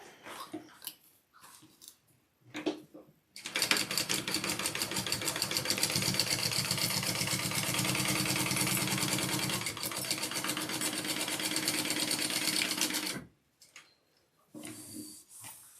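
A sewing machine runs continuously for about ten seconds, stitching a vinyl pocket onto a bag, a dense, close mechanical whir bracketed by short bursts of handling noise and quiet pauses.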